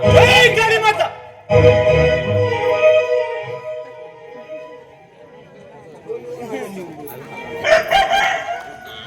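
A rooster crows loudly nearby, a long harmonic call, followed by further crowing and clucking, with voices talking in the background.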